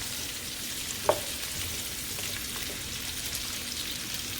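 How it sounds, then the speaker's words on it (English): Asparagus and garlic sizzling in oil and bacon grease in a big skillet, a steady even hiss with one sharp tap as they are tossed around, no talking. "toss them around in the oil and in the baking grease and start trying to get them coated"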